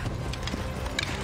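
Horse hooves clip-clopping in Assassin's Creed Odyssey, a run of quick hoof strikes over game background noise, with a brief bright clatter near the end.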